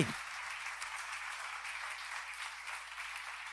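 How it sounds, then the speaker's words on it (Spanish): A church congregation applauds in steady, continuous clapping that fills the room, even and moderately distant, with no voices standing out. "Usted le puede dar un aplauso al Señor por eso"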